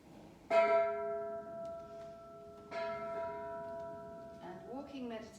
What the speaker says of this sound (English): Have the bell again. I do love this bell.